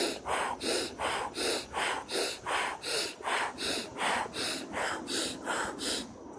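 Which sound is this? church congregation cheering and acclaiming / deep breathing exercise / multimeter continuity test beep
deep breathing exercise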